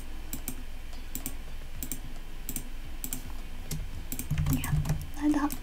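Quick typing on a computer keyboard while entering text into an Excel budgeting spreadsheet, close clicky keystrokes in bursts, with a brief murmur of voice near the end.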